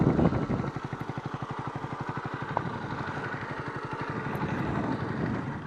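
A Honda CB250RS motorcycle engine running at a steady idle, a rhythmic low thumping pulse with mechanical clatter, fairly close and continuous throughout.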